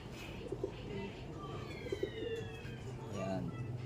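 Pigeons coo softly in a few low, throaty bursts over steady outdoor background noise.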